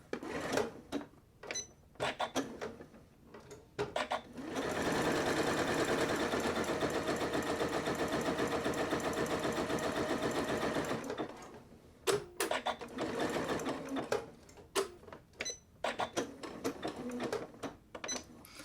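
A sewing machine running a narrow zigzag stitch along a thumbhole cuff seam: a sustained whirring burst of several seconds in the middle, surrounded by clicks and handling knocks.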